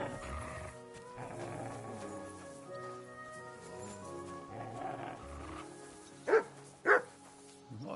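A dog in Kingdom Come: Deliverance 2 growls with low, rumbling, drawn-out snarls over several seconds, ending in two sharper barking bursts near the end.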